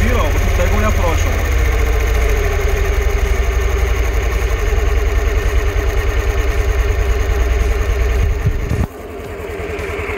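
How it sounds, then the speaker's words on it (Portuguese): A Suzuki Burgman AN 125 scooter idles steadily after its carburetor has been rebuilt and adjusted, a loud close engine putter with an even rhythm that drops off sharply near the end. "Aqui já ficou na marcha lenta legal, ó. Tá bem estabilizado, ó."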